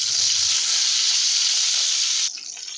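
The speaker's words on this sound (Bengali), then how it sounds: "তো এই হচ্ছে বেগুন ভাজা, আর এখানে ভাত হচ্ছে।" Brinjal slices frying on a stove while rice cooks nearby, a steady close hissing sizzle that holds evenly then drops abruptly near the end, no talking.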